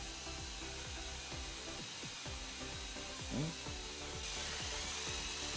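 A power tool cuts wood for finger joints guided by a template jig, a steady motor whine broken by regular cutting strokes, faint and somewhat distant.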